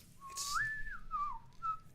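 A human voice imitates a whistling tone, a single gliding whistle that rises and falls over about two seconds, close and fairly quiet, alone.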